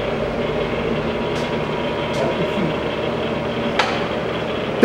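A Jet 16x60 removable gap metal lathe runs at 60 RPM, giving a steady, even mechanical hum with a few faint ticks and clicks over the whole stretch, with no speech.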